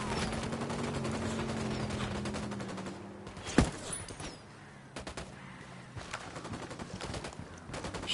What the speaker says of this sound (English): Shooting these fuckers.